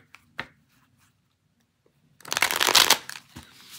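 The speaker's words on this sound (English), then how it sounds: "I'm going to tip these down, and I want to shuffle this like two or three times" A new tarot card deck shuffled by hand in a quiet room, a short tap first, then a quick riffling flutter of cards lasting about a second, close and clear.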